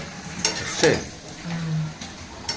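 Mutton sautéing in a kadai with hand-ground spice paste for biryani, a continuous sizzle broken by a few stirring clinks and scrapes, close and without talk.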